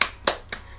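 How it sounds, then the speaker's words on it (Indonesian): Children performing a rhythmic spirit clap in a classroom: three sharp, evenly spaced claps, close and clear, with no talking. "Tepuk semangat"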